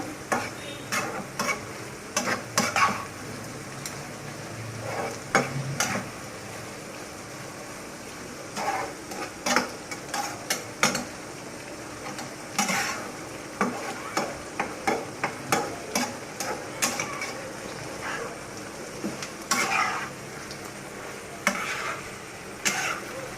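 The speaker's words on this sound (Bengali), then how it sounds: "ভালোভাবে এটা নেড়ে দেব" A pan of shrimp curry with taro stolons and jackfruit seeds is stirred with a spoon, giving repeated close scraping strokes in an irregular rhythm over a low background sizzle.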